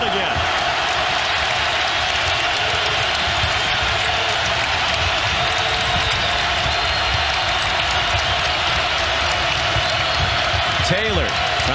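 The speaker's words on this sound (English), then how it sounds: "Here comes the crowd again." Sustained roar of a college basketball arena crowd at Marquette versus Wisconsin, loud and continuous throughout, with sneaker squeaks and a commentator's voice riding over the noise.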